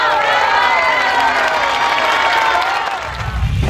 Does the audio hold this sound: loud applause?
yes